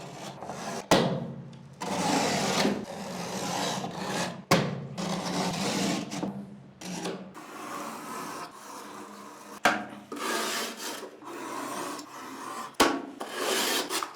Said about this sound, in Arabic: ونبدأ نقطع الزيادة اللي في الجبس